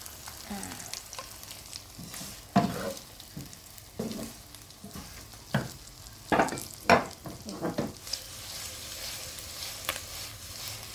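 Chicken wings fry in hot oil in a pan, a steady close sizzle with several louder crackling bursts and stirring clatters, no voices.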